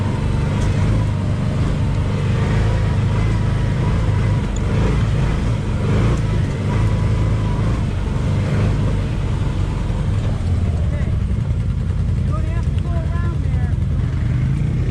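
A Can-Am Defender XMR side-by-side drives aggressively off-road over icy valley trails, its engine droning loud and steady throughout with rough terrain rumble, while people talk over it now and then.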